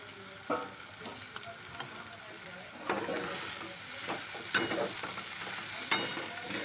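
Banana flower curry sizzling in a pan after a little ghee is added, a steady fry hiss with occasional spoon knocks and stirring scrapes, the sizzle swelling louder partway through.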